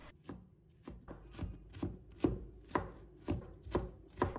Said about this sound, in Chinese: 然后切成小粒。